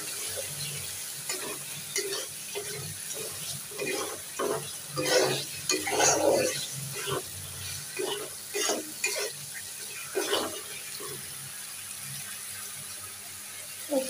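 Three eggs fry in an oily spice paste in a pan for egg bhuna, giving a steady close sizzle broken by scraping stirs that swell and fade, with no voices.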